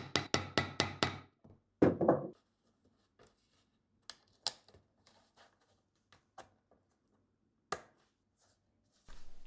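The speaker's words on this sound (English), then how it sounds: "And set the closure straps with rivets as well." Rivets are hammered into leather closure straps on a cake bag, a quick burst of five sharp taps followed by a heavier blow and scattered lighter knocks, close and clear with no talk.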